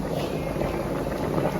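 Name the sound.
fish curry in coconut milk boiling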